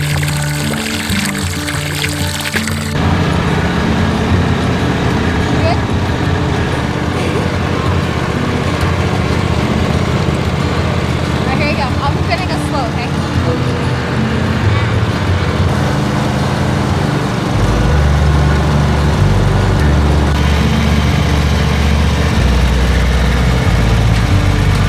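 A lawn tractor engine runs steadily and close by, a continuous low drone with a brief pause near the start, holding an even idle-like level throughout with no talk over it.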